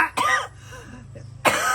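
A woman coughs in two harsh, close bursts separated by a brief pause with a faint breathy sound between them, loud and alone in a rural comedy sketch.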